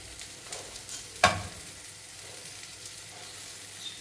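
Food fries in a pan with a soft steady sizzle, broken by one sharp scrape or clatter of stirring, close by and otherwise fairly quiet.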